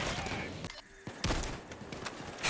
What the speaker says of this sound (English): Shoot one bullet, take cover.